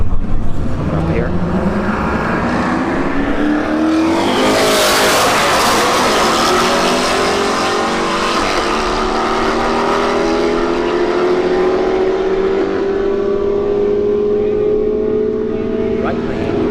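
Two Camaro SS cars race down a drag strip at a street-heat event at Bradenton Motorsports Park, engines roaring loud and close and rising in pitch through the gears as they pass, with a continuous roar throughout.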